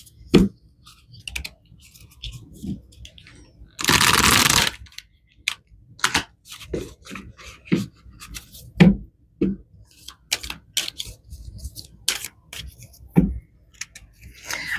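Tarot cards shuffled and handled by hand in short, crisp bursts of card clicks and slaps, with one longer dense riffle partway through, close and clear with long quiet gaps and no talk.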